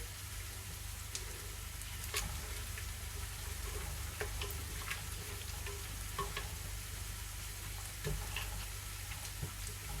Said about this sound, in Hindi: अब मैं इसे अच्छी तरह भून लूँगी।